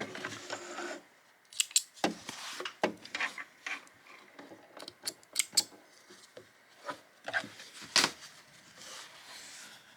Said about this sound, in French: On relève l'aiguille et on vient couper le fil.